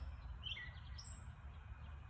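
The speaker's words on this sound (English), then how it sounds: "I can hear the birds behind me." Faint bird chirps and short tweets over a low outdoor rumble, a few calls scattered across a quiet background.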